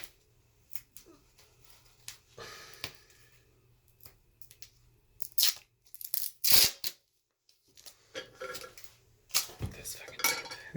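Packing tape being torn and handled at close range, with sharp ripping and crinkling bursts, scattered clatter and a few short gaps of near-silence.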